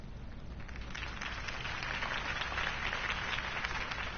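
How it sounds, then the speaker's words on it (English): A crowd applauds after a mayoral campaign speech, with steady, dense clapping that builds slightly and stays constant, slightly muffled and rain-like, with no talking. "If only Mr. Wayne, my campaign's largest backer, could have heard that applause"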